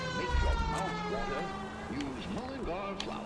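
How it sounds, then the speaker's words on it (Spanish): Fire engine siren in a firefighting video game, a steady wailing tone running under a talking voice, at moderate level throughout. "Que tengo puesta la sirena"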